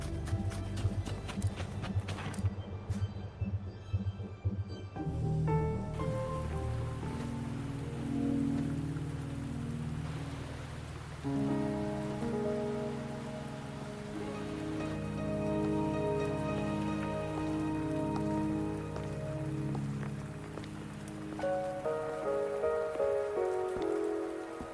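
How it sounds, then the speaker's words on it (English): Rain falling in the video game Wuthering Waves, a steady patter on surfaces running throughout, joined partway by sustained musical tones and a brief louder burst near the start, with no speech. "Are you trapped here by the rain?"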